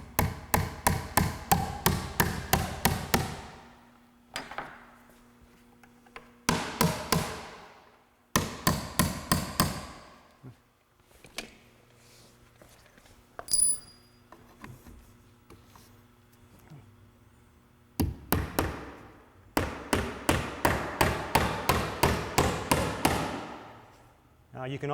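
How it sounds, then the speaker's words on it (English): A hammer drives 16-penny galvanized finish nails into log siding on a framed wall, with bursts of rapid, evenly spaced blows separated by pauses, close and sharp. "try to install the nails like on the top of the corner here, where they're going to be least noticeable"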